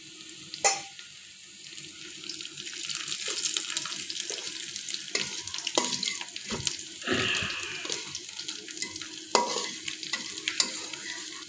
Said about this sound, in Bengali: দিয়ে দিচ্ছি পাঁচফোড়ন মশলা